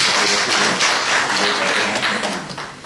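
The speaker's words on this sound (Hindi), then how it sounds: "जोरदार तालियां" A lecture audience claps loudly and densely in a sustained burst that tapers slightly toward the end.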